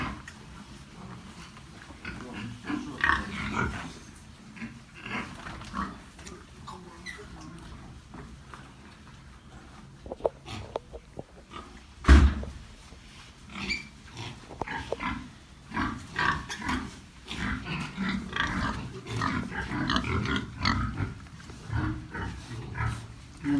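Weaned piglets being weighed grunt and squeal nearby in bursts, with one sharp loud squeal midway and handling noises and faint talk around them.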